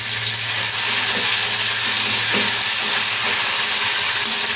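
Potato and tomato pieces frying in hot oil, a dense continuous sizzle and hiss close by, with faint stirring under a low steady hum.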